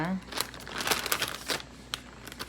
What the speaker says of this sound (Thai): ใส่ถุงซิปล็อกนะคะ